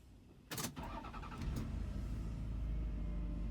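A 1999 Toyota Sienna XLE minivan starts with a standard key, a short cranking burst that catches and settles into a steady low idle, heard close and alone.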